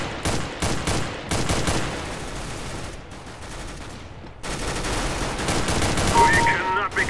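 Fire from an AUG rifle in Counter-Strike: Global Offensive, heard as repeated close, loud volleys of rapid shots with brief pauses between bursts and no talking.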